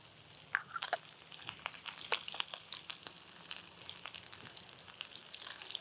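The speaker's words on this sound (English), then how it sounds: "give this a nice stir to stir in that seasoning, and then we'll let the vegetables cook" Zucchini and squash with Italian seasoning and garlic powder cook in a pan, making a soft sizzle broken by crackling pops and scraping stir sounds, fairly close and moderately quiet.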